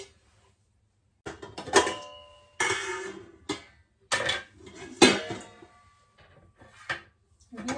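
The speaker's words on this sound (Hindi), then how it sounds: "ये मेरा कुकर का ढक्कन है तो उससे ढक दिया मैंने।" A metal pressure cooker lid is set over dough in a home kitchen, giving a run of sharp metallic clanks and clatters separated by short pauses of near silence.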